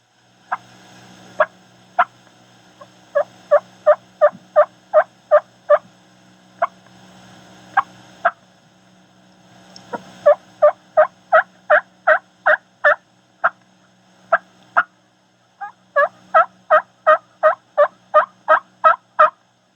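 A hand-operated turkey call imitates a hen's tree call: a run of short, sharp yelps in quick rhythmic series, with brief pauses between bursts, heard clearly and alone.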